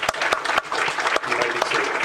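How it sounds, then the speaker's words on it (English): Dense, steady audience applause at a university lecture event honoring faculty, a loud wash of many clapping hands sustained throughout, with faint voices mixed in. "Please give them an applause."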